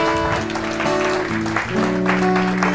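A church congregation applauding during a Spanish-language service, steady crowd clapping mixed with sustained organ or keyboard chords that shift pitch underneath, fairly loud and continuous.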